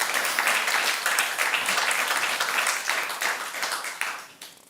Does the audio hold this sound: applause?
yes